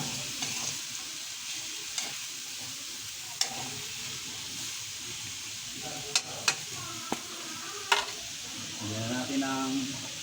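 Adobong sitaw (string beans) fries in a pan under a steady loud sizzle, while a utensil stirs and scrapes with occasional sharp clinks against the pan.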